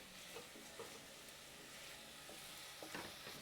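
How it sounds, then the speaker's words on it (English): Lentils simmering for dal makhani are stirred gently in a pot, giving soft, brief scrapes at intervals over a steady background sizzle of cooking. No one speaks. "I'm going to give them a gentle stir as they're cooking along."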